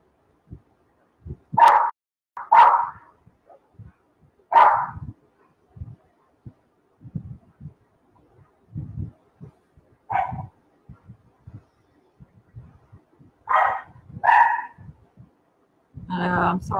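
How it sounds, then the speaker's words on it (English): Dogs bark in scattered bursts nearby, several sharp yips and woofs spaced across the span, amid intermittent quiet talking and household noise. "I'm sorry if you guys hear the dogs barking."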